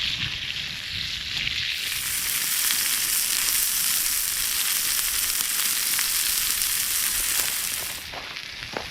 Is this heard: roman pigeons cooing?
no